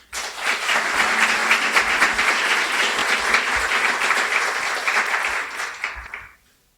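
A graduation ceremony audience for a guide-dog training class breaks into a loud, sustained round of applause that fills the room evenly and then cuts off sharply at the end.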